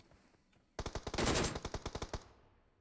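One sharp burst of automatic gunfire in the video game PUBG Mobile, about a dozen quick evenly spaced shots, loud and close, cutting off after roughly a second and a half.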